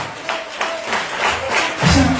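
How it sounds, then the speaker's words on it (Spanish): A church congregation applauding, with uneven bursts of clapping that swell and build toward the end, mixed with a few voices in the room. "Den un aplauso al Señor esta tarde."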